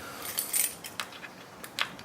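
A bunch of keys jangles and clinks in a hand while someone hunts for the right one to unlock an e-bike battery, several bright metallic rattles in quick, uneven bursts at close range.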